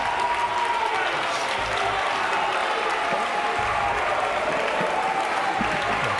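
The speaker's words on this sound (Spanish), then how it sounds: "aplaudían todos juntos después" Opposition legislators applaud and cheer together after a vote, a dense, steady wash of clapping and crowd noise filling the whole stretch with voices mixed in.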